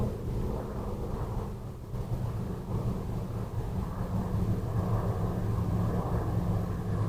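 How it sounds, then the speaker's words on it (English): A low, rumbling roar of an airplane passing overhead, steady and broad, slowly swelling louder across the few seconds with no voices. "if you can hear the plane above, it doesn't disturb you"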